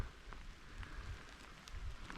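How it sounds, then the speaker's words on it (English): Heavy rain falling on a tent pitched on a hilltop in coastal pine woods, heard as a faint, soft patter with a few sharper drop ticks scattered through the short stretch. "Yeah, the rain's quite heavy now."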